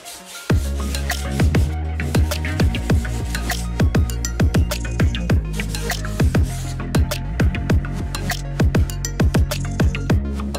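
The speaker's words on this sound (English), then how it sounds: "I'm gonna smoothen out some edges with some sandpaper" Sandpaper of 120 grit rubbed along the edges of a wooden trainer table, a steady run of loud, rhythmic rasping strokes close to the microphone with no talk.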